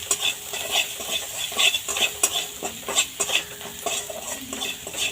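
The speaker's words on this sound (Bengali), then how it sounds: "এর মধ্যে নেড়ে নেব। মশলাটা একটু ভাজা ভাজা করে নেব।" A spoon scrapes and clinks against a pan as spice masala with cumin powder is stirred and fried, with a soft sizzle underneath and irregular bursts of metallic stirring strokes, close and fairly loud.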